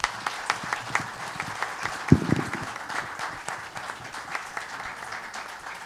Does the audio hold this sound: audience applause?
yes